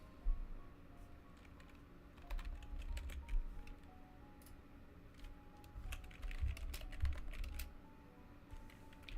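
Computer keyboard typing at a desk during a live stream: irregular bursts of key clicks and clatter, fairly close and moderately loud, alone with no talk, pausing briefly between flurries.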